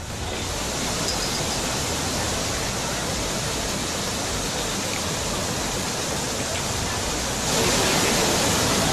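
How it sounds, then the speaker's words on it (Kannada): Heavy rain in Uttarakhand drives flooding water that rushes in a dense, continuous roar with no pauses, steady and loud, swelling slightly louder near the end. "ಉತ್ತರಾಖಂಡ್ನಲ್ಲಿ ಮಳೆ ಆರ್ಭಟ ಜೋರಾಗಿದೆ"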